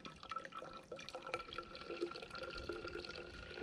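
Water drips steadily through a new, unused camping water filter being primed, a quiet patter of small drops running alone with no voices.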